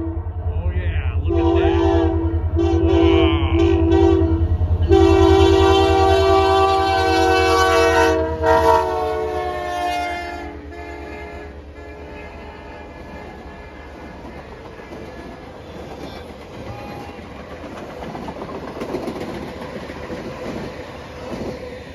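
A loud train horn blares over the heavy rumble of the Canadian Pacific holiday train passing close by at Ohio 49, then the rolling clatter of cars continues as the horn stops.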